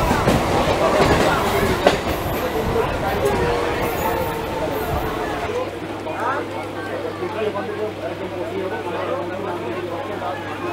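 Howrah to Digha local passenger train rolling along the rails, a steady loud rumble with clattering wheels and a steady hum later, under the chatter of passengers and someone talking.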